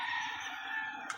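Steady, dense chatter of chickens in a homemade coop fills the clip, a constant mass of clucking and calls at moderate volume with no talking.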